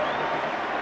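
Stadium crowd in the football video game PES2009 (Iran vs Nigeria), a loud, steady wash of massed voices roaring and shouting with no single voice standing out.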